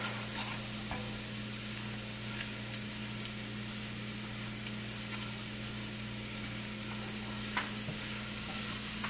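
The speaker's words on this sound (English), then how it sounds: "once your garlic starts to brown, you want to move" Garlic sizzles steadily in a hot pan, a constant close crackling hiss with a low hum from the kitchen beneath it and occasional soft pops.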